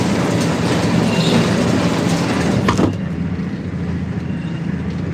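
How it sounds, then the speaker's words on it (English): A Unimog truck cruises along a country road in Norfolk, its steady engine and road rumble loud and continuous with no talk, the sound dropping slightly in level partway through. "Unimog's going alright"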